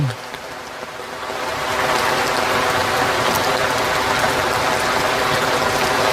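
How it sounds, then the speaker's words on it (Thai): Heavy rain at Khao Kho in Phetchabun, Thailand, pours down as a dense, loud roar that swells after a quieter first second and holds steady, with no voice heard. "ฝนแรง"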